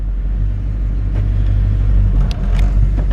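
A 1984 Chevrolet K5 Blazer Silverado with a brand new motor pulls away, a loud, steady low engine rumble right up close, with no one speaking.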